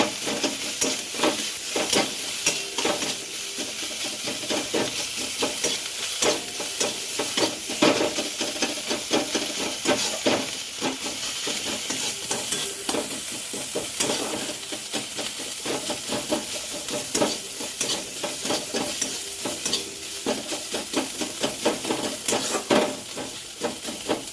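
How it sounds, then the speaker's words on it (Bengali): Spices fry in a pan while being stirred, a steady close sizzle with frequent scraping strokes running throughout and no voices. "মশলাটা একটু ভাজছি ভালো করে হয়ে গেলে"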